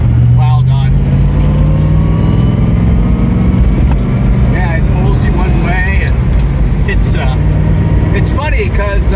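A Bizzarrini 5300 GT road car's engine pulls hard under acceleration, a loud, steady low roar filling the cabin while people talk and exclaim over it.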